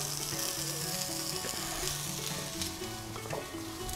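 Asparagus seasoned with salt and black pepper sautés in a smoking-hot frying pan with bacon fat, giving a steady, close sizzle under tonal background music.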